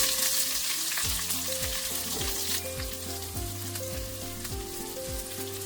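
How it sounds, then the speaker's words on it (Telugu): Dried red chillies and small onion pieces fry in tempering oil for Andhra-style rasam, a strong continuous sizzle and crackle up close, with no one speaking. "2 ఎండుమిర్చి, చిన్న ఆనియన్స్ ముక్కలు వేసుకోండి."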